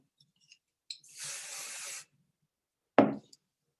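A short burst of hissing spray lasting about a second, close by, followed by a sharp knock or tap; otherwise quiet.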